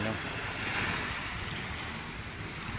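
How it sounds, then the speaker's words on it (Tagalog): Calm sea waves wash steadily along the shore at Manila Bay, a continuous soft surf hiss with wind buffeting the microphone and no distinct breaking crashes. "yung ating dagat ay umaalo, hindi kagaya nung ilang araw na malaki yung alon"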